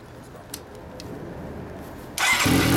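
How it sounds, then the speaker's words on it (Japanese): A quiet, faint background gives way to an early-model Kawasaki Zephyr motorcycle engine with a Moriwaki exhaust suddenly starting near the end, roaring loudly as it catches and keeps running. "エンジン音聞かせてもらえますか？"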